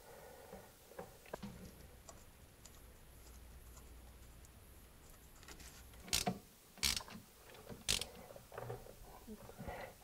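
Ratchet clicks tightening the brake caliper bracket bolts on a 2002-2007 Jeep Liberty, several sharp close bursts of clicking after a quiet stretch of low workshop hum.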